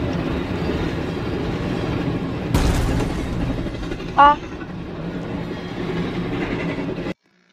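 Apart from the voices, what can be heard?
train in Roblox video game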